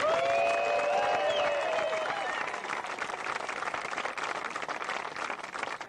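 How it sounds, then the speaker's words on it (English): Outdoor crowd at a disc golf world championship applauds a player's introduction: steady, dense clapping with scattered cheers and whistles, fairly distant and holding for several seconds, with a voice over it early on. "Big round of applause from Sheboygan, Barry Schultz."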